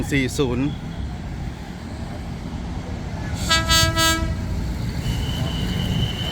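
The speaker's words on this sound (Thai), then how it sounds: "อัสตอม 4152 ทำขบวน ลาก 4202 ครับ" An Alstom diesel locomotive, number 4152, hauling train 4202 on the Thai railway gives a steady rumble with a distant horn toot early on and a louder multi-tone horn blast midway, followed by a faint tone.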